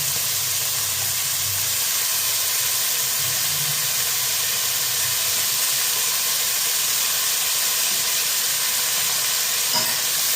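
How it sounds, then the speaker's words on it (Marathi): Finely chopped potatoes fry in oil for sabudana khichdi, a continuous bright hiss and sizzle holding steady throughout with faint low stirring rumbles and no talk. "आता आपण त्यात टाकूया बारीक छान कापलेले आलू."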